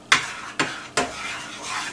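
A spoon stirs melting butter and garlic in a hot pan with three distinct scraping strokes against the metal over a faint, steady sizzle, close by and with no talking.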